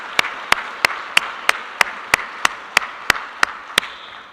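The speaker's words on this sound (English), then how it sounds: "So huge round of applause to AFCEA International." Steady, evenly spaced claps at a conference keynote during AFCEA's TechNet Cyber, about a dozen sharp single hits in a regular rhythm over light room noise.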